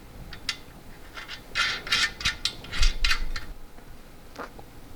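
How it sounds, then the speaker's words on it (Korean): Screws being tightened in repeated short turns while assembling an IKEA Skarsta manual standing desk, a cluster of close ratcheting metallic clicks and scrapes in bursts, then a few faint ticks. "요 나사를 조일 때 한꺼번에 조이는 것보다는 이렇게 여러 번 예, 이렇게 해서 예, 힘을 가하는 게 맞죠"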